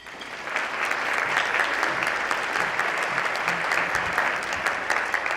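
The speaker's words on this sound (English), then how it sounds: "Please give all of our sponsors a round of applause." Sustained applause from an audience at an awards luncheon, a dense wash of clapping that swells in after a brief start and holds steady throughout.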